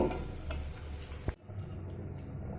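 Sweet semolina nikuti balls simmer in sugar syrup over a low flame, giving a steady soft bubbling sizzle with one brief louder clack midway, close and continuous with no voices.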